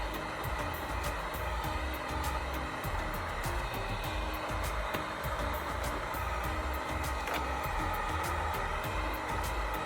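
A heat gun blows steadily while it warms a chrome badge on a 2018 Ford Mustang GT. The airflow roars as a constant close drone with a low rumble and small intermittent clicks, and no one speaks.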